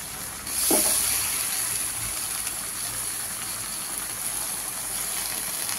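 Leafy greens tipped into a hot pan after frying fish heads, giving a steady broadband sizzle and hiss that starts abruptly and carries on evenly throughout, with no talking.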